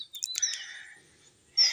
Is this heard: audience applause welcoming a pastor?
no